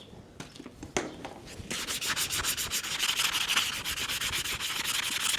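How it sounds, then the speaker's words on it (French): A farrier's rasp files down a horseshoe nail on a hoof, first in a few separate scrapes and then in fast, rhythmic strokes that stay close and loud throughout. "Un tout petit coup de râpe, voilà, sur mon clou, pour enlever un petit peu les parties qui peuvent me gêner"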